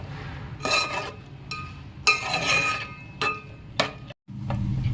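Metal utensil scraping and clinking against a pan in several bursts, with brief pauses between strokes, close by, stirring a capsicum and dry fish curry after water is added.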